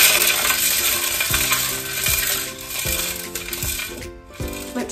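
Hamster running in its wheel with food inside, giving continuous rattling and clattering with repeated tumbling clinks as the food shifts, close and fairly loud, with no voices.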